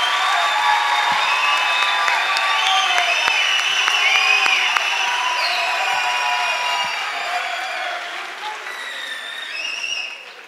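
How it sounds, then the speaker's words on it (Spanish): A gala crowd gives the band sustained applause, loud and dense throughout, with tonal notes ringing over the clapping before it tapers near the end. "reproduzcamos un buen aplauso a la banda"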